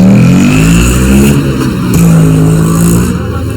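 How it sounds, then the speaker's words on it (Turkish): Motorcycle exhausts rev loudly on a street near Balıklıgöl in Şanlıurfa, rising and falling engine tones that sweep up and down close by, with traffic noise underneath. "Şu motorların egzozları da"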